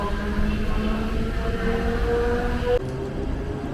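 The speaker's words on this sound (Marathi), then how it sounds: "आता ही ट्रेन गोरेगाववरून निघाली आहे" A Mumbai harbour line local train rumbles steadily on an early-morning run, with a continuous low roar and droning tonal hum from inside the carriage that shifts abruptly near the end.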